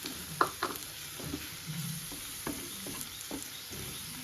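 Crushed ginger and garlic frying for a simple chicken dish give a soft, steady sizzle in a pan, broken by scattered clicks and scrapes of stirring, all fairly quiet with no talking.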